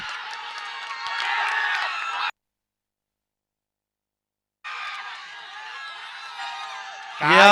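Tembhivali supporters at a cricket match cheer in two loud crowd bursts broken by a sudden gap of silence, with a thump and rising noise at the very end.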